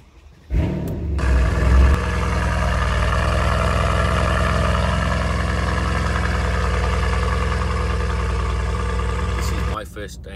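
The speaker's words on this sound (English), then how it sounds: "We're gonna do a cold start because this is the start of the video, and let me put the windows down so you can hear this." A 2015 Mercedes C63 AMG cold-starts with a sharp bark, then settles into a loud, steady, deep idle rumble heard up close with the windows down. The engine drones evenly for several seconds before cutting off.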